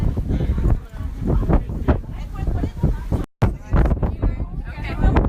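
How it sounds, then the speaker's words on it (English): Strong gusts buffet the microphone in loud rumbling bursts, with a sudden brief dropout partway through. "It's more than a little windy."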